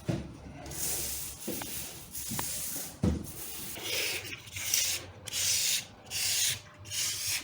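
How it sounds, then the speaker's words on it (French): Someone sands a freshly painted ceiling by hand, producing close, rough scraping strokes in uneven bursts, a few sharp knocks early on, then longer rhythmic passes of rasping friction. "Donc là, je ponce après peinture."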